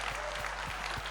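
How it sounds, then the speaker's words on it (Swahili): Church congregation clapping during a testimony, a steady wash of many hands with a few louder rhythmic claps standing out, continuous for the whole moment. "Piga Yesu makofi mazuri."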